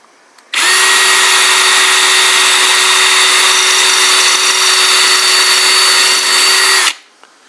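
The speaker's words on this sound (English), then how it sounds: "So we're gonna try to drill one more time." A Ryobi 18V One Plus drill driver fitted with a masonry bit whines loud and close at a steady high pitch for about six seconds, starting and stopping abruptly, with no voices.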